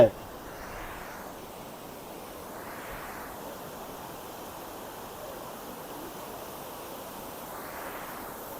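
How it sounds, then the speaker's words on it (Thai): Water pours over a small irrigation weir outdoors on an overcast day, a constant rushing hiss that fills the whole stretch evenly with no voices. "ฟังเสียงธรรมชาติน้ำไหล สงบสงบ"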